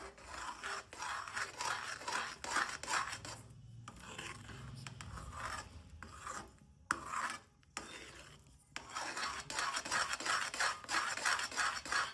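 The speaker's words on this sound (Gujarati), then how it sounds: "અને આપણે સારી રીતે મિક્સ કરીશું" Bhedka shiro with chopped almonds stirred in a pan: continuous rasping scrapes of a spoon against the metal in quick repeated strokes, with a few brief pauses, close and fairly quiet, no talking.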